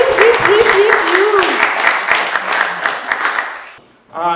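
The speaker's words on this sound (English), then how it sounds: "Everybody, keep that round of applause going for Bernadette and Under the Golden Bag." Loud, dense applause fills the room while a voice talks over it; the clapping dies away and the voice comes back alone.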